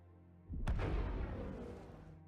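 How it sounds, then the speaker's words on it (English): A single explosion sound effect from the video game Halo Reach: a sharp, loud boom that bursts suddenly and then rumbles away over a couple of seconds, heard alone with no talking. "It sounds like an explosion."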